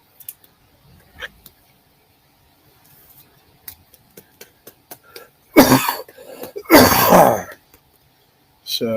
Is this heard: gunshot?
no